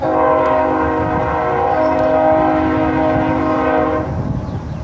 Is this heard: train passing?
yes